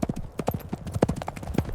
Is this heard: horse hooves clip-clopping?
yes